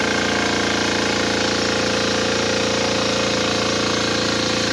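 A Kisan Kraft mini tractor engine runs close by, a loud, steady, unbroken mechanical drone with a fast rattling pulse and no pauses.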